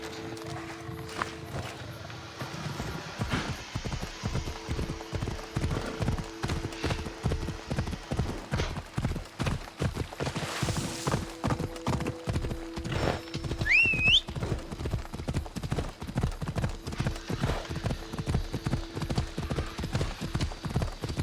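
Hooves of a horse in Assassin's Creed Odyssey drum in a steady, rapid clip-clop rhythm for about twenty seconds, with a brief whinny near the middle and soft game ambience underneath.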